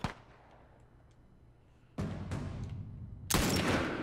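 Gunfire erupts during an attack in The Last of Us video game: a sharp opening shot, a quiet stretch, then sustained bursts of shots and explosions growing louder and closer.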